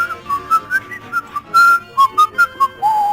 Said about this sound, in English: Shall I whistle it for a little intro?